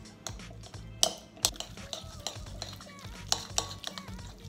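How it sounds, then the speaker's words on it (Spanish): A spoon stirs spinach and room-temperature cream cheese in a bowl, giving repeated scraping clinks and taps against the bowl in an uneven rhythm, close and clear. "Y con una cuchara vamos a revolver."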